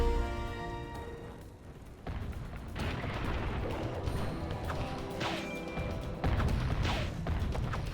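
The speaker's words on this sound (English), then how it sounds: "I heard a cannon." Cannon fire in the video game Kameo booms and crashes in several heavy blasts, some close together and loud, over game background noise.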